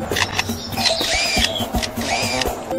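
A lyrebird imitating a camera shutter: rapid mechanical clicks and whirring motor-drive bursts mixed with short chirpy tones, loud and close, with no talking.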